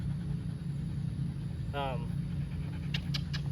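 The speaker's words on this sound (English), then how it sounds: "Oh, look, there's a dog there." A dog pants in a brief burst of quick rhythmic breaths, heard faintly against a constant low engine-like hum, with a few sharp high squeaks near the end.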